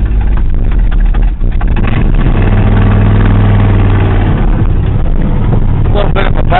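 A cold 1979 Ford F250 pickup engine idles in gear, a loud, close, steady low rumble with a droning hum throughout and a few rougher pulses near the end.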